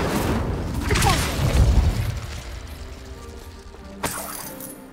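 Spell casts and explosions in the video game Hogwarts Legacy: a loud booming blast with crackling debris in the first two seconds, fading to a low rumble, then a sharp cracking impact near the end.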